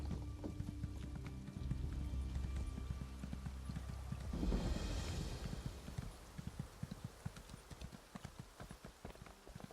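Hooves of a horse in the video game The Elder Scrolls Online clip-clop in a quick, steady rhythm, loud and close, after a low rumble and a brief whooshing burst midway.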